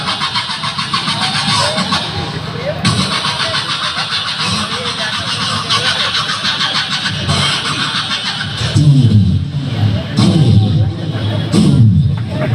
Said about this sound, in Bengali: স্টার্টে এমন শব্দ হয় এবার কিন্তু স্টার্ট হয়ে যাচ্ছে